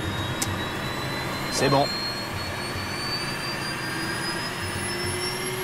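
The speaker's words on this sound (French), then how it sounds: "Le blocage des capteurs lors du test devrait reproduire la même défaillance moteur. Auquel cas, le son des réacteurs sera donc identique." Airliner jet engines spooling up during a ground test with blocked sensors, a steady loud roar with rising high whine tones throughout; someone speaks briefly over it.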